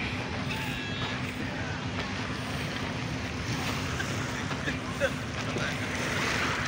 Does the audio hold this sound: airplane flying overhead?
no